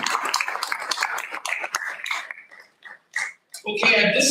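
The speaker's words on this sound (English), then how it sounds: "One last round of applause" An audience at a school board meeting applauds educators with a burst of dense, sharp clapping that thins into a few scattered claps and quiet gaps before a louder noise swells at the end.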